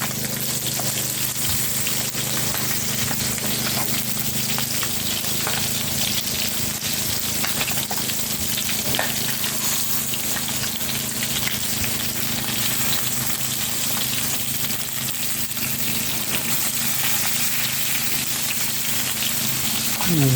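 Fish sizzling and frying steadily in a hot pan, a dense continuous crackle with occasional stirring, close and even throughout.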